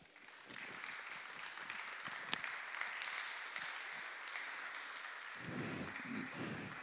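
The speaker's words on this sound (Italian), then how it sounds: "vorrei che accogliste veramente con un grande applauso Ente Lakasi" A steady wash of applause fills a hall at a poetry festival in Genoa as an audience welcomes a poet, an even, moderately faint clapping that holds without pause throughout.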